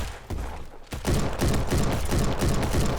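Rapid submachine gun fire in the Roblox shooter Bad Business, a dense rattling stream of close, loud shots after a brief lead-in, sustained without pause.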